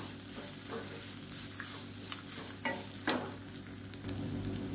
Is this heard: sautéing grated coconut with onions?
yes